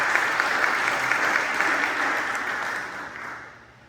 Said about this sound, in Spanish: vamos a darle un fuerte aplauso al Padre Rey